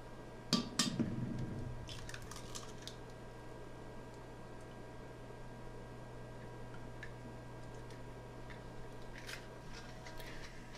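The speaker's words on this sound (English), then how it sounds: "we're going to separate our four eggs into yolks and whites" Four eggs separated into yolks and whites in a kitchen: a sharp shell crack and clink against a bowl at the start, then faint scattered taps and ticks over a steady low hum.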